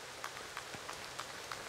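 Steady rain patters during a disc golf final round at the Finnish Nationals, with soft drops ticking on surfaces as a constant faint wash and no voices.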